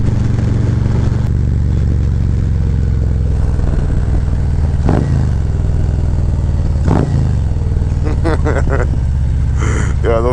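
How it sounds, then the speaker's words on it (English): Harley motorcycle fitted with a Screaming Eagle cam, droning loudly and steadily up close as it downshifts, with sharp engine barks marking each gear change. "those downshifts sounds crazy now"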